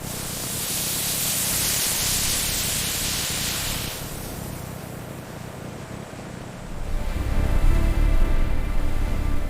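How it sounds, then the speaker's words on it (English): A steady hissing spray runs for several seconds, easing off partway, then a louder, lower rushing spray takes over toward the end, as dye is sprayed onto bull leather in a jacket factory. "Increasing spray density to maximum for full uniformity."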